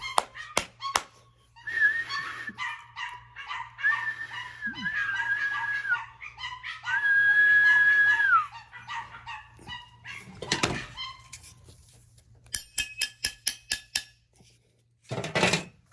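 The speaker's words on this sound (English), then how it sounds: "the dogs ain't going to be quiet" Dogs bark indoors in scattered bursts, with a drawn-out whining cry in the middle, sharp clicks and clatter, and quiet gaps between outbursts.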